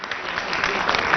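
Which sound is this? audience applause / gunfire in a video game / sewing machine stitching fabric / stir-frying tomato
audience applause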